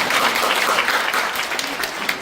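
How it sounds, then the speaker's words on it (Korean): Audience at a political talk applauds steadily in a dense, even wash of clapping that fills the whole stretch without letting up. "박수 한번 해주시죠."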